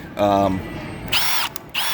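Milwaukee M18 Gen3 Fuel hammer drill whirring in a Home Depot store, several short bursts near and loud, separated by brief pauses.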